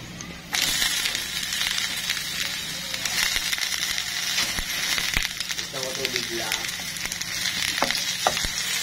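Garlic frying in oil until golden brown, a steady close sizzle and crackle that runs throughout, with occasional utensil taps and no speech.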